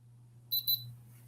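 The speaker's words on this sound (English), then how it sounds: "Okay, we heard a beep, and it's solid green." A Stampin' Up! hot foil machine gives two short, high electronic beeps in quick succession, close and clear over a faint low hum when it reaches temperature.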